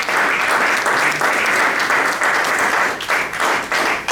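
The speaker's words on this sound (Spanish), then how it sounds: "denle un aplauso al Señor si cree usted que Dios está aquí" A church congregation claps together in loud, sustained, dense applause that holds evenly for several seconds with slight swells.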